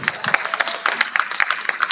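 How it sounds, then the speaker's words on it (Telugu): A church congregation clapping loudly, a fast steady run of sharp overlapping claps filling the space, close and energetic throughout. "గట్టిగా చప్పట్లు కొట్టు."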